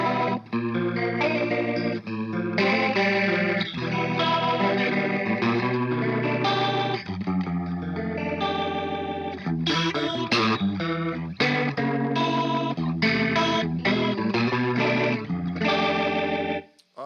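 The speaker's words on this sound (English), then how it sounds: "the Leslie-ish thing sounds like this" An electric guitar runs through a Neo Instruments Mini Vent 2 Leslie-style rotary speaker effect, with a swirling, wobbling chorus-like tone over chords and lines. It plays loud and continuous with no talking.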